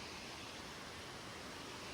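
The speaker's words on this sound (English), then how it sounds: "look, we got to the first waterfall" A waterfall beside a forest hiking trail gives off a steady, dense rushing roar that holds even and unbroken throughout, with no voices over it.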